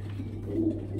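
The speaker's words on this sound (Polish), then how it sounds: "Gołębie. Cała ferma siedzi." Racing pigeons coo softly at a loft in the evening, a brief, low murmur set against a steady low hum.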